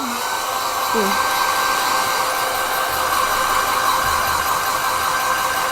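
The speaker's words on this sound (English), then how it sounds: "I'm just going to put the dryer on it" A hair dryer blows steadily on a wet gouache painting, a continuous close whooshing drone with a faint motor hum, running alone for the whole stretch.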